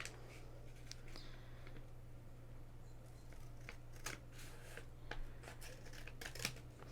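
A paper lunch sack is cut by hand with scissors, giving quiet, close snips and paper rustles in an irregular pattern over a low background hum.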